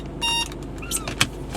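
A car is being parked: a short electric whir like a power window, then a few clicks and a sharp thump that could be a door or latch, heard close with no talking.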